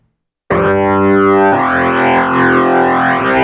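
A loud electric guitar chord through the overdrive effect on a Legend Soul 261 rings out abruptly and sustains with a thick, gritty, metal-style crunch, played alone.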